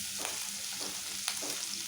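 Grated garlic and ginger sizzle and fry in hot oil for a chilli chicken gravy, a steady close crackle with brief stirring scrapes throughout and no talking.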